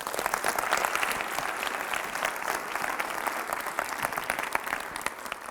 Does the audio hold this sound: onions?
no